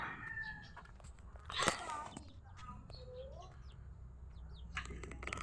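Chicks peep in short, thin, high chirps scattered through the clip, close and faint, while a person talks briefly and there is some handling noise and a louder rustle near the middle.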